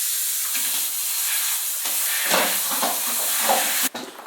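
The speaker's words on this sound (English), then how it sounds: "I'm gonna go to the sink and rinse it off." Water runs from a sink tap in a steady, close hiss while a houseplant is rinsed off, the flow shifting a little as it splashes before cutting off abruptly near the end.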